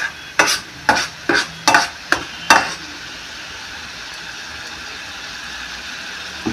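Masala for a prawn curry is sautéed in a pan. Six sharp scraping strokes of a spatula come in quick succession, then give way to a soft, steady hiss of gentle frying.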